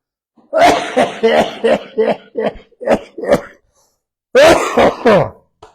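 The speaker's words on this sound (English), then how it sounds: "We start coughing." Repeated loud, close coughing in rapid rhythmic bursts, a pause, then a few more harsh coughs.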